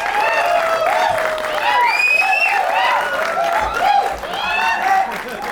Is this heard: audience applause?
yes